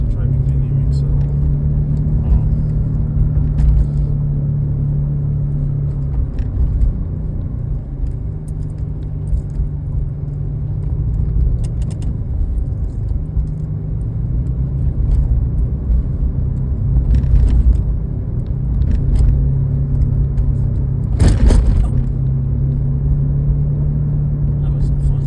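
A Subaru drives along a road, its engine and tire rumble a steady low drone throughout, with occasional rattles and knocks from the cabin; a person talks over it at times.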